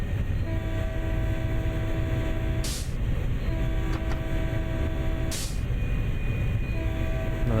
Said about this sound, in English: might as well just hammer the horn for the entire journey because there's just so many crossroads in the section